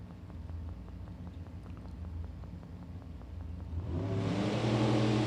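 At a hot rod drag racing event, cars idle with a rhythmic low rumble, then engines rise sharply in a loud roaring launch over the final second.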